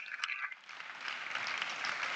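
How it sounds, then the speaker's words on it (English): A university lecture audience claps for the Vice Chancellor, the applause faint and somewhat distant, a brief scattered patter that swells into a steady clapping wash. "Please, can we applaud him with a round of applause?"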